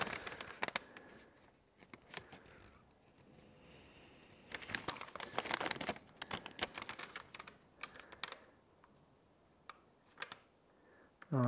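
A thin tin paper sheet pushed and scraped under a Quangsheng hand plane: irregular close clicks, taps and crinkling scuffs, with a denser flurry in the middle and quiet gaps between.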